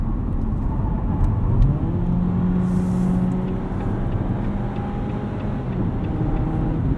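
Inside a 2018 Jeep Compass Sport 4x4 with 180 horsepower, merging onto a highway: a steady engine drone and road rumble with a slowly rising engine tone as it accelerates, continuous throughout.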